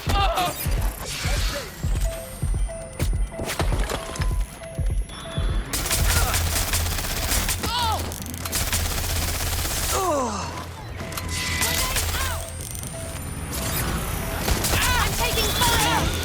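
Gunfire in the video game Watch Dogs: Legion crackles in rapid bursts and single shots alongside mechanical clanks and crashes, with talk and game voices over it.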